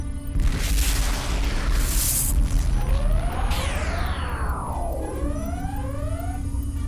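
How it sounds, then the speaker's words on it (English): A methane-fueled explosion of a spaceship in a sci-fi space scene booms loud and continuous, with a rumbling blast and sweeping mechanical tones that descend and fade over several seconds, no voices. "Methane-fueled explosion."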